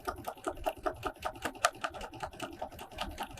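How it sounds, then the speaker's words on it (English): A sewing machine running fast during free-motion quilting, a rapid, even mechanical chatter of stitches at a steady rhythm, close and fairly quiet, with no talk. "Free motion is one of those, yay, I get to sew as fast as I want."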